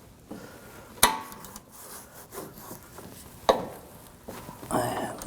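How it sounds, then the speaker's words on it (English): Wrench and socket loosening a sway bar link bolt on a 2006-2009 Audi S4, scraping and ratcheting metal rubs with two sharp clanks and a rising grind at the end, fairly close. "I'm going to use a 13mm wrench on the nut, 16mm socket on the bolt"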